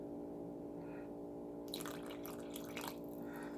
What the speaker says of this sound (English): 2 tablespoons of vinegar.